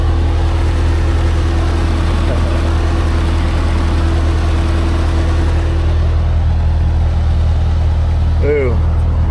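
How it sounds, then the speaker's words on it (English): A Ford 8N tractor running a snow blower in winter, its engine idling with a steady low rumble and hum, close and constant throughout, with a brief squeaky mechanical sound near the end. "Okay, I'm going to start up the snow blower"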